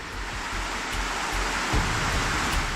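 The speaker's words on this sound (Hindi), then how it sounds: "इतनी तेज़ पानी की आवाज़ आ रही है, पानी की बहुत तेज़ धारा" A fast mountain stream rushes below high peaks in a loud, steady roar of broadband water noise, with low surges now and then and no voices.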